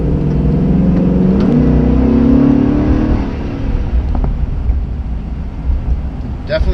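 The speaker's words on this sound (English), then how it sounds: "I really like that throaty intake note" A Chevy Silverado 2500HD fitted with an S&B cold air intake accelerates on the highway, a throaty engine note rising in pitch and then easing into steady road rumble, with someone talking over it.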